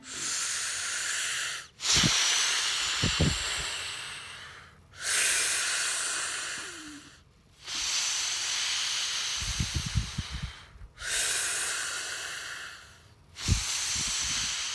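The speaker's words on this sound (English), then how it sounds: "Now the breathing exercises, you want to put one hand on your chest and one hand on your stomach" A class does counted breathing exercises together, with long hissing breaths in four steady cycles separated by short pauses and a few faint knocks and thumps underneath, and there is no talk.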